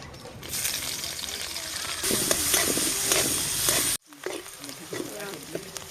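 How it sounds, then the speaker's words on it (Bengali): Green chili and chopped onion frying in oil with cumin seeds in a pan, a steady loud sizzle with stirring scrapes, briefly cut off near the middle before resuming. "ওই তেলে আর একটু তেল দিয়ে দেব জিরে ফোড়ন দেবো এবার দিয়ে দেবো লঙ্কা আর পেঁয়াজ কুচি"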